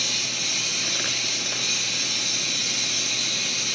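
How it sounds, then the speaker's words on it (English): An Instant Pot Duo pressure cooker cooking ground beef stew vents steam through a Bluebird steam diverter, making a loud, continuous, even hiss that runs unbroken with no talking. "You see the steam coming out? So it fits on the Instant Pot."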